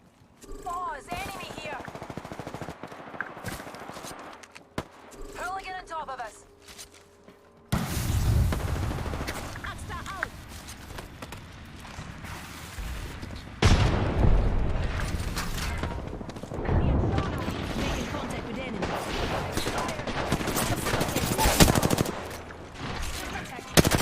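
Gunfire in the battle royale game Apex Legends, with repeated bursts of shots and impacts forming a dense, loud barrage across most of the stretch, mixed with game effects and a voice talking in places.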